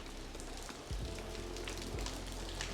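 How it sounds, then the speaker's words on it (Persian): Steady rain falls around a Patrol vehicle outdoors, a dense, constant patter and hiss of drops on surfaces, with a couple of low thumps partway through. "وای به این بارون."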